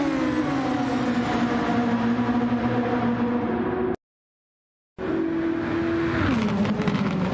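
A Formula-style race car in the Project SF1 racing game screams through its gears accelerating out of a corner, a loud sustained engine whine rising in pitch, broken by a brief dropout before resuming and dipping on an upshift.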